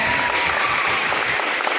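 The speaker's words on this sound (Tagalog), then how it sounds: "Mabalik ka din at palakpak kayo." Brief burst of dense clapping from an audience at a school honoree ceremony for caregiving students, fairly loud and steady with a faint crowd murmur beneath.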